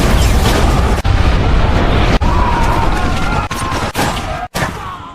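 Loud, continuous roar of blasts and gunfire from a film action scene as members of the rebel group Smoke are hit by an explosion, dense rumbling broken by brief sharp cuts, no talk.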